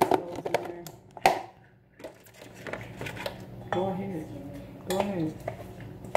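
A utensil clinks and scrapes against a bowl as sprouts are mixed into a raw vegan sea moss salad, producing irregular close knocks while a person talks.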